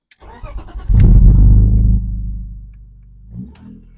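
1995 BMW E36 328i cabriolet starting up: a short starter crank, then the engine catches with a loud burst and settles into a steadier idle rumble, close by, with no talking.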